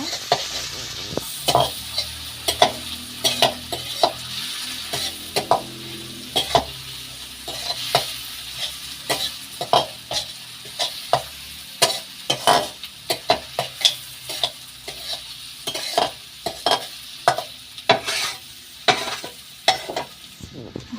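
Chili powder frying in a pan for chow mein, with a close, steady sizzle broken by many rhythmic spatula scrapes and taps against the pan, loud and alone without talk.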